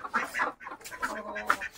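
Farmyard chickens cluck close by in a quick string of short, choppy calls, with several birds sounding one after another.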